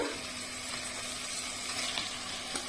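Soaked basmati rice frying in a pan gives a steady, even sizzle, a continuous crackling hiss close by with faint stirring scrapes and no talking.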